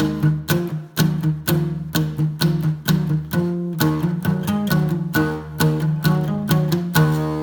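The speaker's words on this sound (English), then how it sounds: "I like to hit a ghost note in between, but it's a quiet ghost note" A guitar lick repeats in a steady rhythm of plucked notes, each attack followed by a quieter in-between note, played close and clear without talk.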